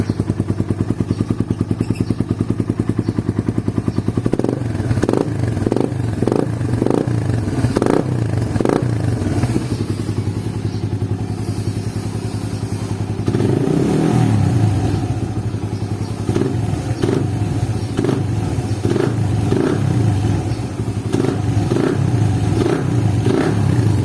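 Suzuki Raider 150 motorcycle fitted with an Apido v3 exhaust, silencer removed, idling loudly and close, then blipped through a series of rapid throttle revs and further bursts over a constant rumbling idle.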